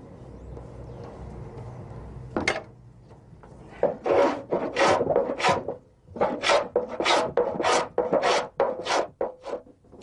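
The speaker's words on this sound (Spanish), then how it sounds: "La pulimentación del tonel la hace nuestro amigo pasando un cepillo normal de carpintero y la rasqueta de pulir." A carpenter's plane and polishing scraper smooth a wooden barrel in a cooper's workshop: after a single early stroke, a run of loud, close rasping passes follows in a steady rhythm, each a broad scraping burst.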